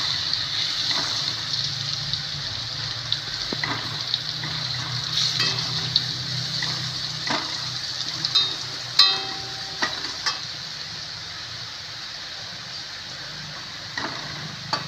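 Garlic, cumin and coriander frying in oil in a pan, a steady close sizzle with intermittent clicks and scrapes of stirring throughout.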